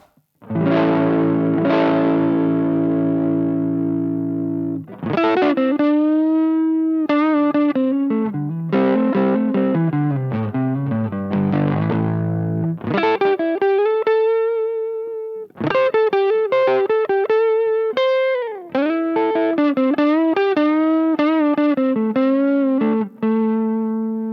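Electric guitar on the neck pickup played through an Aria distortion pedal: thick, saturated sustained notes and chords with bends and slides, alternating with short phrases, loud and alone.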